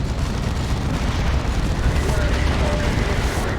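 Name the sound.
missile hit explosion in Dawn of War 2 video game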